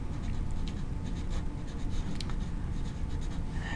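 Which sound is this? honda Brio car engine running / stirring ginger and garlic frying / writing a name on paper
writing a name on paper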